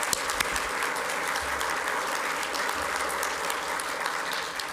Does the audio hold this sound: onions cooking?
no